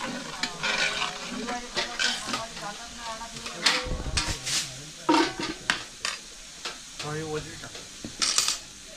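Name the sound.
mutton frying in oil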